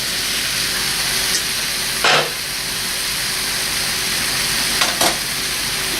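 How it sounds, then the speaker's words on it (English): Beef sizzles steadily in a hot pan, a loud close hiss throughout, broken twice by brief scraping stirs, with no talk. "at this point, we return our beef back to the pan,"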